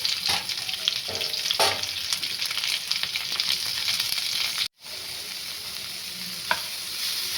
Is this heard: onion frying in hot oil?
yes